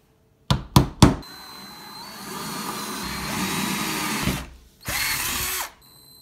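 A few sharp clicks, then a power drill whines steadily for several seconds, stops briefly, and runs again in a shorter burst while drilling holes in a metal coupling.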